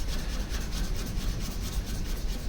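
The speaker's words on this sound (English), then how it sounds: "Just cleaning rust off" Rust is scrubbed off a Yamaha FZS 600 Fazer motorcycle part after a distilled vinegar soak, a continuous close rubbing and rasping with quick back-and-forth strokes.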